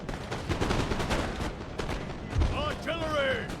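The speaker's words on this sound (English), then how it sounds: "we're firing at the musketeers with the canister" Canister shot from cannons in the Napoleon: Total War video game booms in a rapid series of sharp blasts, followed by a deeper thump and tonal battle sounds near the end.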